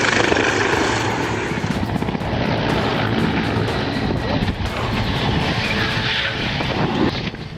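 Helicopter rotor and engine noise, a loud steady thudding drone with rapid blade chop that holds throughout, close and unbroken.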